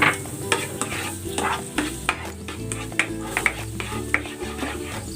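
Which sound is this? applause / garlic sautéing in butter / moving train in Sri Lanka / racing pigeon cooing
garlic sautéing in butter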